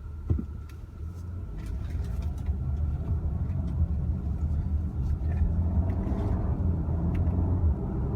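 A 2018 Audi Q5 2.0T engine rumbling steadily from inside the cabin while driving, with brief shifts in tone as it changes gear quickly; a single short word is spoken near the start.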